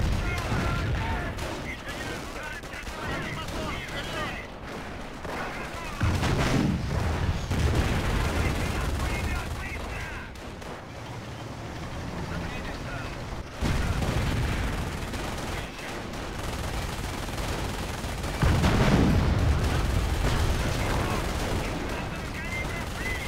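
Battle sounds from the Company of Heroes Eastern Front mod: rapid bursts of machine-gun and rifle fire mixed with heavy cannon booms from Soviet tanks, dense and continuous with louder surges, while a voice occasionally speaks over the fighting.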